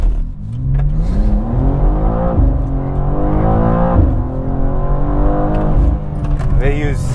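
A 2023 BMW M2 G87 launching hard under launch control, its engine note climbing steeply through repeated gear-by-gear harmonic sweeps, loud and close, while occupants talk over the roar.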